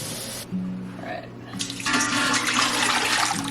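Kitchen tap turned on high to fill a pot with water for a Thanksgiving turkey brine, a steady broadband rush of running water starting after a brief pause, close and fairly loud, with a voice speaking over it.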